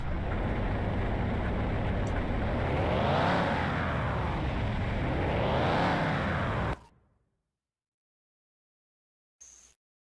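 A car engine revs hard on a dyno in the video game Car Mechanic Simulator 2021, rising and falling through two long sweeps before cutting off abruptly into silence, followed by a short burst at the end.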